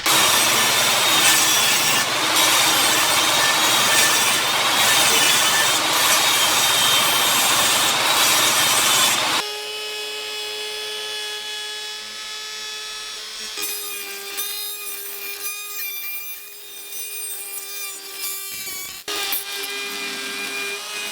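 Wood being sanded to clear dried glue from corners, a loud close rasping drone for about nine seconds, followed by quieter intermittent rubbing passes over a faint tonal hum.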